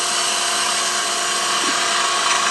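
A wood lathe spins steadily while a turning tool cuts a bead on a wine stopper, giving a continuous loud whirring hiss with a faint scraping edge throughout.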